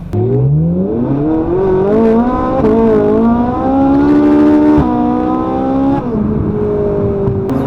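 A car engine revs up through the gears nearby, pitch climbing and dropping with each shift as the vehicle accelerates hard.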